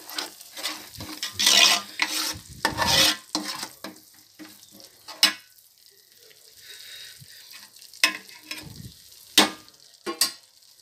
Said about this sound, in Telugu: ఇప్పుడు చింతపండు గుజ్జును వేసేసుకుందాం.